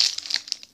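Brief crinkling of a Warheads candy wrapper being torn open, a few sharp crackly bursts up close with no talking.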